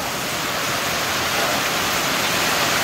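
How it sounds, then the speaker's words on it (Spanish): A strong storm with wind and rain, a fierce norther, pours down as a loud, unbroken wash of noise, close by and swelling slightly, with no talk over it. "Ahí tenemos ese gran nortazo que está viniendo."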